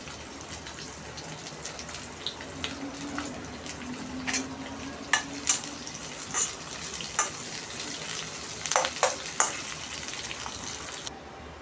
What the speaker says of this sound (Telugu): బాగా వేగిపోయివండి ఉల్లిపాయలు.